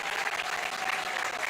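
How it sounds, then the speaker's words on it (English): Polite applause from the crowd at a Nepal versus England C cricket match as England players are substituted, a short, steady patter of distant clapping. "polite applause for the England players"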